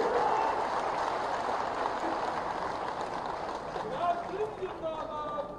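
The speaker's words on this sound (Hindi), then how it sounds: "ये तालियों की गड़गड़ाहट से इसका जवाब होनी चाहिए।" Crowd at a political rally breaking into dense, thunderous applause that holds loud and even before easing slightly toward the end, heard alone without any voice over it.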